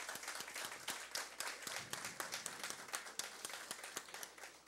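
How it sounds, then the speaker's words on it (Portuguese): Applause at a public hearing on creating an interreligious forum, a steady crowd of clapping with sharp individual claps standing out, moderately loud and continuous throughout with no talk over it. "Peço uma salva de palmas."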